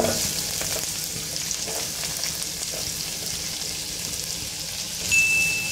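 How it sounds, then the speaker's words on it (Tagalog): Garlic and onion sizzle and fry in a hot pan for chicken caldereta, a steady close hiss with faint stirring scrapes and a brief metallic ding near the end. "Then, guys, ilalagay muna natin una yung garlic. Igisa muna natin. And then, the garlic. And then, the onion."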